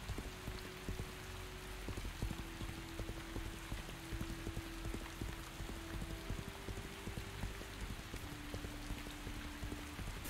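Steady rain pours in a video game, a dense, even hiss of drops on surfaces running throughout with faint low tones beneath, no voices.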